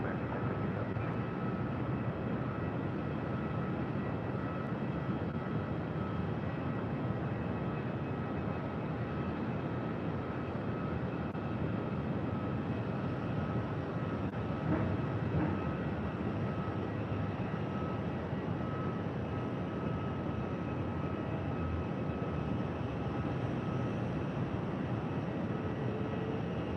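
An airliner lands on runway 8 at Phoenix airport, heard as a faint, steady distant rumble of engine noise that holds evenly throughout without any clear change.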